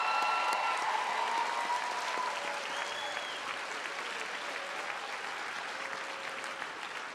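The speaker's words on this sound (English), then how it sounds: "So graduates, give your loved ones one big round of applause." An audience applauds at a graduate studies convocation, a sustained roomful of clapping that fades slightly over time, with faint voices and cheers mixed in.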